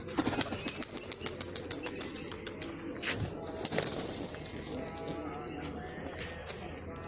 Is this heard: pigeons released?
yes